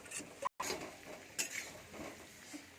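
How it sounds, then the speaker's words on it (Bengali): Fried potatoes are stirred into masala in a pan, producing quiet scraping and clinking of a utensil against metal, with a brief silent gap early on. "আলু আর মশলাটাকে খুব ভালোভাবে মিশিয়ে নিচ্ছি"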